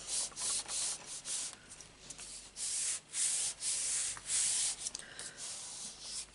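A scrap of white cardstock is rubbed down by hand on top of a glass mat, giving repeated close, dry scratchy strokes in an uneven rhythm with short gaps, no talking.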